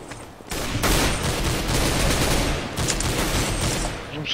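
Heavy machine gun fire in Counter-Strike: GO rattles out in a dense, loud continuous burst after a brief quiet start, with a short gap near the middle before firing resumes.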